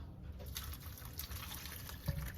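Liquid pours steadily into a pan while cooking smothered liver and onions, a soft continuous trickle with a faint clink near the end, quiet and without talk.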